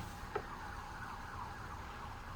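Emergency vehicle sirens passing at a distance in a residential street, a faint wailing tone over steady low traffic rumble, heard alone without talk.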